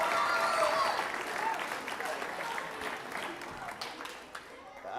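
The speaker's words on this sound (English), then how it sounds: "how loudly you're cheering for each other" An audience at a school speech night applauds and cheers, with loud, dense clapping that starts strong and gradually tapers off, along with scattered shouts.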